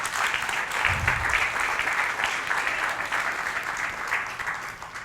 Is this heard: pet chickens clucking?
no